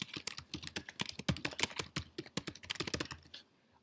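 Quick, uneven clatter of fingers typing on a computer keyboard, dense bursts of key taps close to the mic with brief pauses between them, no voices.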